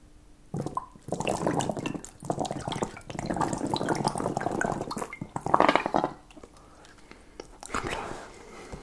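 Water sloshes and gurgles inside a hydration bladder at the bottom of a backpack, close and wet, in bursts separated by brief pauses; no clear talking.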